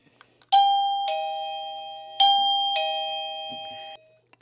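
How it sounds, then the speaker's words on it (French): Two bright ding-dong chimes from an electronic doorbell, each two tones ringing out and decaying, close and clear in a quiet room. "Je branche ma petite sonnette."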